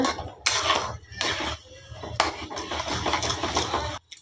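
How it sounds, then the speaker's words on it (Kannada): Rice burfi mixture stirred in a pan over a medium flame as it thickens, heard as repeated bursts of close scraping and clattering against the metal with short pauses between strokes. "ಮೀಡಿಯಮ್ ಇಡಿ ಉರಿನ, ಕೈ ಬಿಡೋದಂಗೆ ಚೆನ್ನಾಗೆ ಕಲಿಸ್ತಾ ಇರೋಣ."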